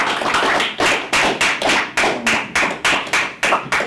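An audience claps for ancestors at a libation ceremony, a loud, close run of sharp claps in a steady, evenly spaced rhythm, about three per second, with no talk.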